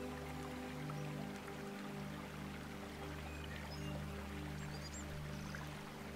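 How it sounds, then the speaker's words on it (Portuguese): A flowing stream trickles and bubbles steadily throughout, its close, even water sound laid over a soft continuous droning tone. "Aprecie também a música da água"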